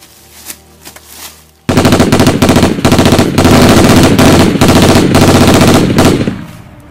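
Loud, sustained machine gun fire in a Vietnam War ambush scene, rapid continuous bursts erupting after a quieter opening and running for several seconds before tapering off.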